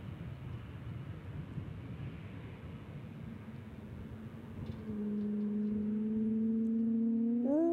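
A Boeing 787 Dreamliner airliner at DFW airport gives a broad, steady jet roar that jumps louder midway. A sustained engine whine then climbs sharply in pitch near the end, heard from some distance with no voices.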